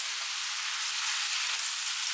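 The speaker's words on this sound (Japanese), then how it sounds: "お肉入れます。 野菜も投入。" Meat and vegetables fry in a small pot with a steady, even sizzle that holds at a moderate level throughout and has no talk over it.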